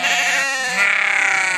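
Katahdin sheep bleat loudly and continuously on a homestead, a wavering, sustained bleat close up that grows a tremulous vibrato toward the end, with no talking.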